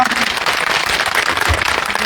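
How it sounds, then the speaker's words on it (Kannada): An audience at a meeting about state pensions breaks into dense, continuous applause, many hands clapping together at an even, fairly loud level for the whole stretch. "ಮಾಡ್ಬೇಕು ಅಂದ್ರೆ ಚಪ್ಪಾಳೆ ಹೊಡಿರ ನೋಡ"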